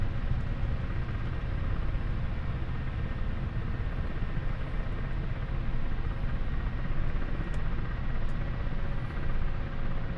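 A helicopter loses rotor RPM in flight, heard as a steady, dense rumbling drone with broad whooshing noise that stays at an even level throughout, with no talk.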